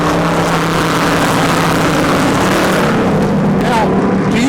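Race cars at Dover's Monster Mile rushing past, a loud continuous roar of engines with rising and falling pitch as they sweep by, close and dominant, with a voice talking underneath.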